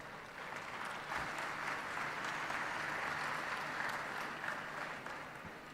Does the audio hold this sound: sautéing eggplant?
no